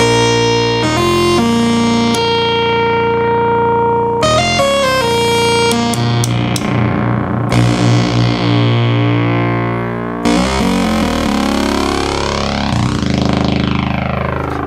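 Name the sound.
1972 Minimoog synthesizer oscillator slightly out of tune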